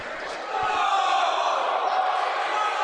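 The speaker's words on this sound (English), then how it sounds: "Crowd wanting a call, they won't get it." A crowd at a varsity high school ice hockey game rises into loud sustained shouting and roaring for a penalty call, swelling after a quieter start and holding steady.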